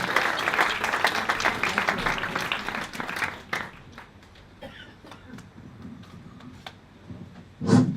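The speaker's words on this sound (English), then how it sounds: "A big round of applause." Wedding guests at a golf club reception break into loud applause for several seconds, which then fades to scattered claps and room murmur, ending with a brief louder burst.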